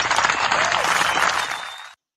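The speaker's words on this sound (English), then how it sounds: "Hit the clap button, DJ." A DJ fires an applause effect: a burst of crowd clapping and cheering, loud and close, that fades out and cuts to silence after about two seconds.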